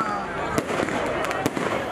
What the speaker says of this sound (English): The fireworks blend magnificently together with joyous Christmas carols